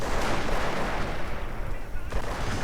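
Dense, continuous rumble of artillery and rifle fire in a WWII real-time strategy game battle, loud and steady with overlapping blasts and shots throughout.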